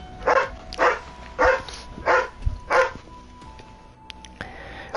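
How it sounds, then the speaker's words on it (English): A dog barks five times in an even, steady rhythm, sharp and fairly close, followed by quieter background noise with a couple of faint clicks. "Oh, and that's a dog from Josh's side."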